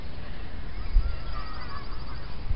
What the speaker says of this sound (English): there is a family of ducks, Mr. and Mrs. Duck.